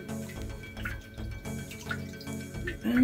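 Water trickling and dripping in a freshly dug shallow well at an off-grid homestead, a steady close-up run of soft splashes and drips with a low, pulsing undertone.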